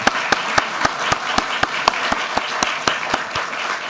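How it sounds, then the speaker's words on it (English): An audience at a book launch event applauds steadily, a dense wash of many hands with a few sharp individual claps standing out in a regular rhythm, moderately loud and sustained throughout. "I'd like you to join me in a round of applause for everyone involved"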